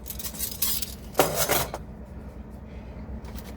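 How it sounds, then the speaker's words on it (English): A lid gets set back on an Instant Pot with a few quick metallic clinks and clatters, close and brief, over a low steady hum. "Put that lid back, put that top back on there."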